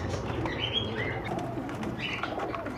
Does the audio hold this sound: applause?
no